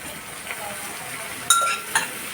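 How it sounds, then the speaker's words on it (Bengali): Mustard paste is stirred into boiled bottle gourd stalks for a chorchori, giving a soft, steady sizzle from the pan. A utensil scrapes and clinks against it twice, close by and without voices. "ভালো করে মিশিয়ে নিলাম সরষে বাটাটা সব কিছু দিয়ে"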